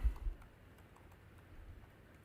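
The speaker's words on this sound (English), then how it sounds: "I'm going to tap Google, type in my username." Light, quick taps on a phone or computer keyboard while a username is typed, faint and close, in a quiet room.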